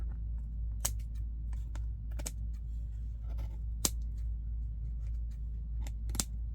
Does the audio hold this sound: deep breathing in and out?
no